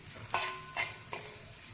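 Hot green chillies with a little salt being stirred and sautéed in a pan, heard as three short scraping stir bursts over a quiet, low sizzle.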